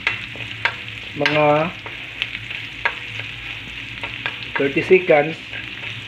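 Sisig frying in a pan while being stirred, with a steady close sizzle and scraping stir sounds; a voice speaks briefly partway through.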